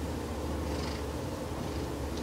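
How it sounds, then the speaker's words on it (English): A steady, continuous low purr of a cat up close, rumbling evenly throughout with no pauses. "he's purring so loudly right now"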